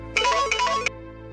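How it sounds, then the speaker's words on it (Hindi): A mobile phone ringtone plays a short, loud melodic electronic phrase in three bursts, then stops, heard close and alone with no talk. "ये फाहद का फोन है।"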